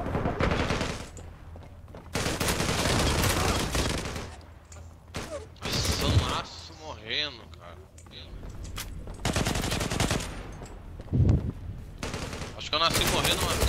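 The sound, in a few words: gunfire in the video game Zula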